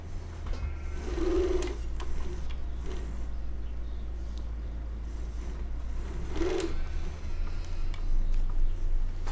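A lawn mower engine idles and runs in a farming survival roleplay game, a steady low mechanical drone that holds throughout with a continuous ticking rattle layered on top.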